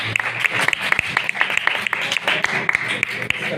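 A church congregation bursts into loud, sustained applause, dense rapid claps from many hands filling the room without pause.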